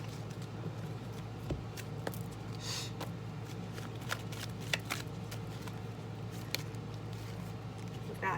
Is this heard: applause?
no